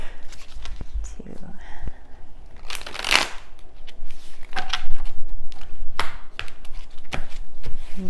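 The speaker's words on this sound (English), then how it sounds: "Lots of shuffling I'm being asked to do here." Tarot cards are shuffled in quick riffling bursts and soft shuffles, spread irregularly through the stretch, with a person talking over parts of it.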